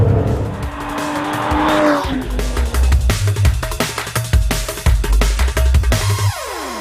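An Aston Martin DB11 on a race track, engine roaring up and down through gear changes while tyres squeal and scrub through corners, loud and close throughout.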